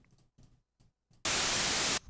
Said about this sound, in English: There you go, white noise.